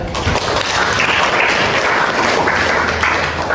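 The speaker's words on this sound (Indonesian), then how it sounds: "Tepuk tangan untuk Kayla." Applause from a classroom of students: dense, continuous clapping that stays loud and even throughout, with no talking over it.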